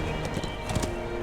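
Horse hooves clop in quick, uneven beats as a rider gallops in the fantasy game Lord of the Rings Online, a short, moderately loud burst over a steady background bed.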